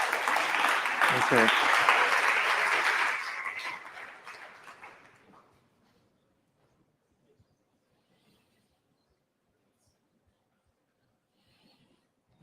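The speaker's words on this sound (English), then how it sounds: "give Richard one round of applause already" Applause for a speaker at the NixCon Paris 2022 conference, a dense burst of clapping that fades away within a few seconds, leaving near silence with a brief spoken word.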